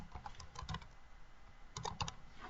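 Computer keyboard typing while entering a variable name in simulation software: two short bursts of quick key clicks separated by a pause, close and fairly quiet, with no talking.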